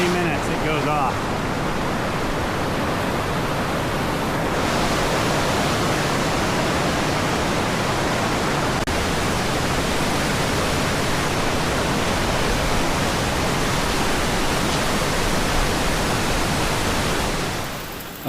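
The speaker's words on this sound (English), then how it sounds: "This is the world's largest cold water geyser." Powerful, continuous whoosh of water blasting from the world's largest cold water geyser in Wyoming, a dense, even roar heard up close that holds steady before easing slightly at the very end.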